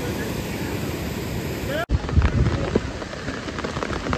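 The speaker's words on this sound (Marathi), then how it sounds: "पाऊस सुरू झालाय." Rain beginning to fall during a village getaway in the Konkan region, a dense steady hiss of drops with a brief cut partway through, then a rougher, louder patter with faint muffled voices in the background.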